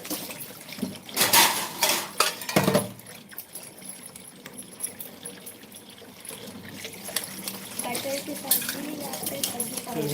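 Dishes are washed at a sink, with running water and clattering pots, plates and utensils in irregular clinks and bangs, close by, while a person talks intermittently over the work.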